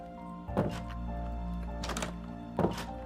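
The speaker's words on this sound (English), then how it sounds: "Helpy is banging on the door he once let out." Helpy bangs on a door in a Minecraft Five Nights at Freddy's build, two heavy thuds about two seconds apart over a steady low hum of game ambience.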